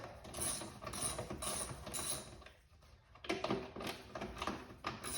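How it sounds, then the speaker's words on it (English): A 7mm socket ratchet clicks as it undoes the air filter box bolts on an Alfa Romeo Giulia Quadrifoglio, bursts of close, rapid pawl clicking separated by a short pause. "we're gonna come with a 7mm socket and just undo these"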